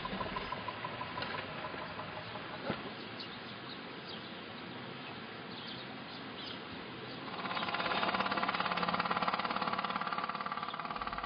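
A narrow-gauge Balkan train on 76 cm track idles and shunts around a depot with a right-angle crossing, its engine rumbling steadily before rising into a louder, rougher drone as it pulls away, with birds faintly chirping.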